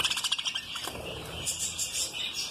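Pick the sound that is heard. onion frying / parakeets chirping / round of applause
parakeets chirping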